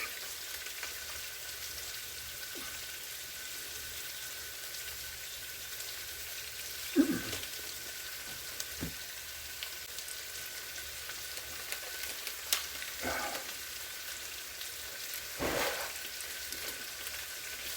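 Potatoes sprinkled with seasoning and rosemary fry in a pan, a steady low sizzle with a few soft scraping stirs and clinks along the way.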